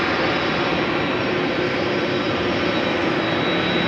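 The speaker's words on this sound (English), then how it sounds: "CF6s providing the background tune." GE CF6 engines on a Delta Air Lines widebody at rainy Amsterdam Schiphol, a loud continuous jet roar with a faint high whine on top, steady and close with no voices.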